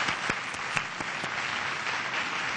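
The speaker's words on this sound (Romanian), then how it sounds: "Așa că, aplauze!" A studio audience on a Romanian TV show claps steadily for the crew, a dense, moderately loud applause with a few sharper individual claps standing out.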